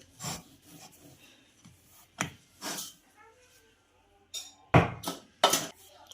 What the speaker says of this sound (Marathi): छान अशी आपण ही चपाती लाटून घेऊया